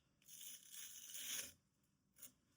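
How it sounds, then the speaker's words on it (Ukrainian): A plastic packet ripped open in one long tearing stretch, then a short second rip after a pause; close and fairly quiet. "Не хочу рвати цей пакетик."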